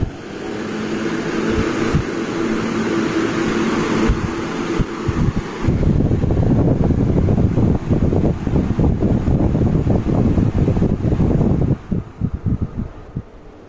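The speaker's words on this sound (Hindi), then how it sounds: "अभी मैं यहाँ पर टेबल फ़ैन लगा रहा हूँ" A table fan driven through a homemade remote control switch runs with a steady whooshing hum, shifting to a rougher, gustier whir partway through, loud and close with no talk over it.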